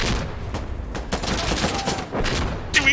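Sustained volleys of gunfire in the tactical shooter Insurgency: Sandstorm, several weapons firing in dense overlapping bursts for nearly three seconds, loud and close, with a sharp final burst at the end.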